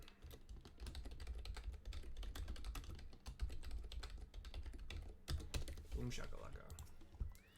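Computer keyboard typing in quick, uneven bursts of clicks, fairly close, while someone talks over it.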